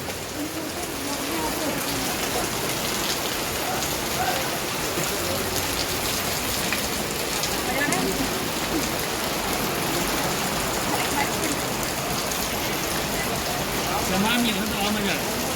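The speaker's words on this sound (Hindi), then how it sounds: "ये बारिश हो रही है छमाछम।" Steady monsoon rain pours down continuously in Pushkar, a dense hiss of drops on surfaces with a faint voice occasionally beneath it.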